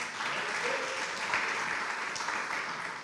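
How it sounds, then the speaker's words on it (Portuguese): Church congregation applauding after a call to applaud the Lord, a steady dense wash of clapping throughout with a faint voice rising briefly underneath. "Vamos aplaudir o Senhor."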